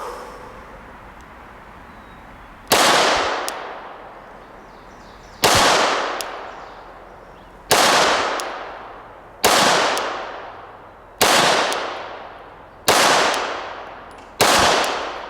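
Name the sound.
Glock 17 firing 147 grain hollow point ammunition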